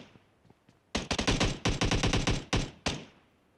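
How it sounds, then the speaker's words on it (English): Bursts of gunfire ring out, distant during a subway confrontation in China, coming as rapid machine-gun volleys of sharp cracks after a few faint pops, separated by short gaps. "Where is the shooting coming from?"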